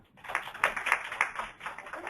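An audience claps in a lecture hall, a scattered burst of hands that swells and wavers for a couple of seconds before thinning, with no speech over it.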